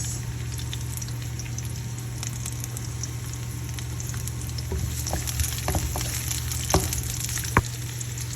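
Onion frying in hot oil, added after garlic in a home cooking pan: a steady, close broadband sizzle with scattered crackles and a few sharper pops, no speech.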